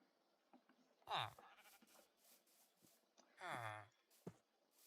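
Sheep bleat in the Minecraft video game, two drawn-out wavering calls a couple of seconds apart over faint clicks and soft game sounds, with no one talking.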